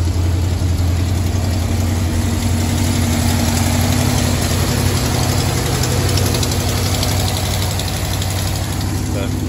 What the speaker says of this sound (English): Go ahead and start it up. You can already hear the header gasket leaking